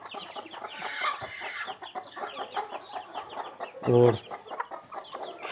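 Hens clucking while sitting on eggs, a run of soft close clucks and low murmuring calls with one louder squawk near the end, over faint background noise and a brief word of speech.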